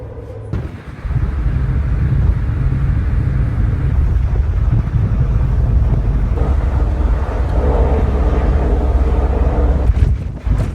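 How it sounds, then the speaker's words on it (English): Strong wind buffets the microphone on the outdoor deck of an Irish Ferries ship crossing from Holyhead to Dublin, a loud continuous roar with low rumble from the vessel, no talking. "It's a little bit cold and windy now."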